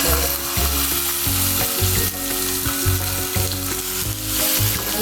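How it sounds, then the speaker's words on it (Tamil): Halved tomatoes fry in a little oil in a pan, giving a loud, continuous close sizzle with crackling spatters and an underlying low hum throughout. "இந்த தக்காளி இப்போ நல்லா ஃப்ரை ஆகும்."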